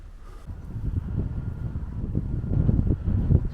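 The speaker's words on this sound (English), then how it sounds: "It's a bit breezy" Breezy wind gusting outdoors near a preserved windmill with idle sails, a steady low rumble buffeting the microphone that swells louder toward the end, with no voices.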